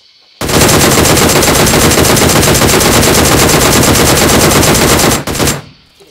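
Sustained automatic gunfire in the mobile shooter PUBG Mobile, a loud continuous burst of rapid shots lasting about five seconds before cutting off, close and dominant with no voices.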